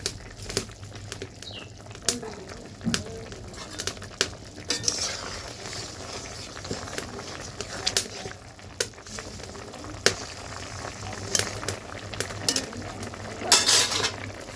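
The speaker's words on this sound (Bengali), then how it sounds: "এই যে এখানে করছি সয়াবিন, নিরামিষ সয়াবিন রান্না করতেছি।" Vegetarian soybean curry is stirred in a pan over a steady sizzle, with repeated sharp clicks of a utensil against the metal, close by and continuing throughout.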